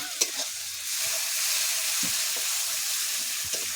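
Meat cooks with spices in a pan, giving a continuous hiss of frying under a few soft knocks and scrapes of stirring, close and even, with no voices.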